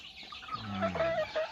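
Thai fighting rooster of the Thong Ek line giving a brief run of soft, low clucks, heard close and quiet with no talking.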